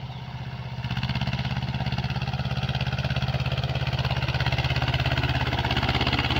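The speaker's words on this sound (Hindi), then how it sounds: "आवाज़ देखो भाई 2 सिलेंडर की" A Mahindra Jivo 245 DI two-cylinder, 25 HP tractor engine idles close by, its low, rapid thumping pulse steady and even after starting up, with no talking.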